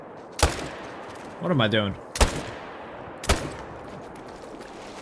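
Rifle shots in the hunting game Call of the Wild, fired at long range: three sharp, loud cracks spread over a few seconds, with a man's brief spoken remark between the first and second shots.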